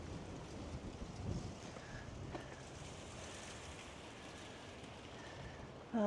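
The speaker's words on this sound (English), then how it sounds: "It's a bit windy today." Wind gusting in a small garden area in Albany, Western Australia on a sunny, breezy day, a low steady rumble of buffeting against the microphone with no speech.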